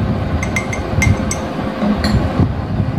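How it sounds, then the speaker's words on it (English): Salt being stirred into a water solution in a glass during a school science experiment, the spoon clinking against the glass several times in quick, light taps over a steady low background hum. "I am going to add some salt to this solution. Okay, add some salt. And I stir it well."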